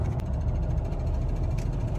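Low, steady rumble and vibration from inside a Chevy truck cab driving at highway speed over 70 with a persistent shimmy, a continuous droning roar with no talk.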